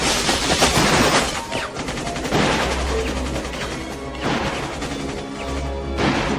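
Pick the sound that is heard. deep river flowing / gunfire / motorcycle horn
gunfire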